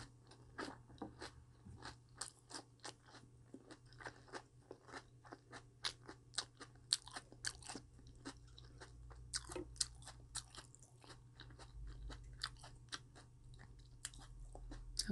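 Close crunching and chewing of raw vegetables, cabbage, carrot and potato, in a Korean mukbang, a long rapid series of crisp bites and mastication over a faint steady hum, no talk.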